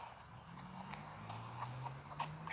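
Horse hooves clip-clopping at a steady walking pace, each light hoof strike distinct over a low, continuous hum in the background.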